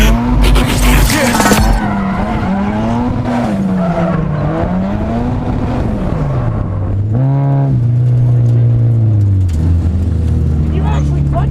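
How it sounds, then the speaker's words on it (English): An engine-swapped Lexus revs hard through a clutch kick, its engine note sweeping up and down as the tires squeal loudly for several seconds, with voices talking over it. "You actually clutch kicked for once?"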